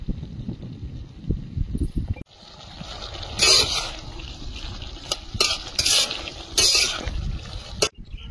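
A spoon stirs a thick curry of lau stalks with potato and poppy seed in a pot, bursts of scraping and clinking against the metal over a low bubbling sizzle, close and uneven.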